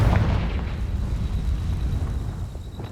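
Confringo fire spell in Hogwarts Legacy going off as a loud, rumbling blast that decays over about three seconds, with no voices.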